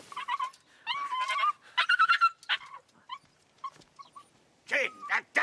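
A dog whimpers and yelps in short, high bursts with pauses between them, close by and moderately loud, with no other noise behind it.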